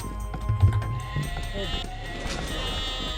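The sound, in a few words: sheep bleating in Age of Empires video game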